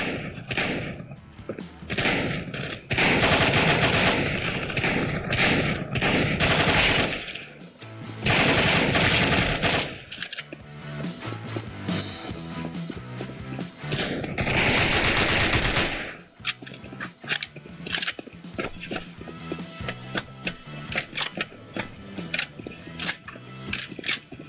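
Shotgun fire in a video game, loud repeated blasts in irregular bursts mixed with rapid clattering shots and game sound effects throughout.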